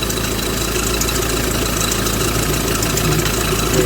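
A 2001 Hyundai Porter Super truck engine idles loudly and close, a steady rumbling drone with a constant whirring from a worn, noisy fan belt running through it.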